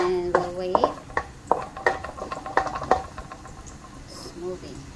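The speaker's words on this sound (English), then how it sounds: "So this time we're going to saute the garlic." Garlic sautés in a pan while a utensil scrapes and knocks against the metal in uneven strokes over a soft background sizzle, close and clear, with talk in the background.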